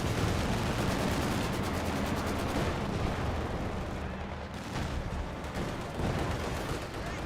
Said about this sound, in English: I think I hear some sort of rocket artillery.